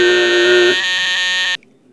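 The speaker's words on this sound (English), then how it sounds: "it's got the old-fashioned horn right there" A loud, harsh electronic alarm horn from a FireX FXW 1 smoke alarm blares for about a second and a half, then cuts off abruptly.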